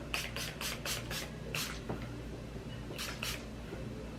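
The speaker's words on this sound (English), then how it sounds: "I hold it up while I spray, that way it has more volume" Hair spray hisses onto loose textured curls in a quick burst of short sprays, then a longer spray and another pair of bursts, close and moderately loud over a quiet room.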